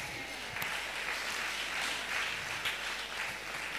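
A church congregation claps during an evening consecration camp service, a steady patter of many hands heard from a distance, fairly faint and even throughout.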